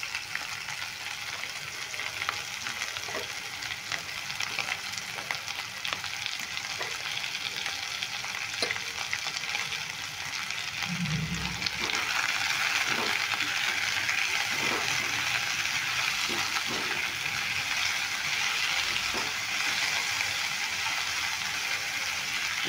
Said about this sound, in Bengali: দেখো এইখানে আমি পেঁয়াজগুলো ভেজে নিচ্ছি